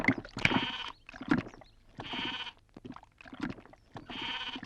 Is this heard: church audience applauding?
no